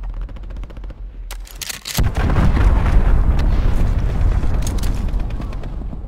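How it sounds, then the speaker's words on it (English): A loud cruise missile blast in the Modern Warfare PC beta, a sharp boom at about two seconds that rolls into a dense, sustained rumble with rattling gunfire, preceded by quieter battlefield clatter. "Allied cruise missile away"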